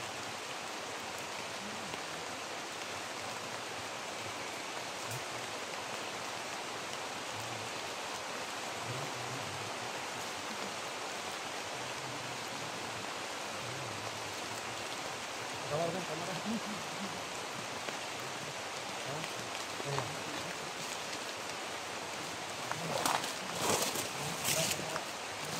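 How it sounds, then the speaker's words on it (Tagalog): Steady rain hisses down evenly across the whole stretch, with a few faint voices and brief sharper noises near the end. "Tayo ulan na, umulan na."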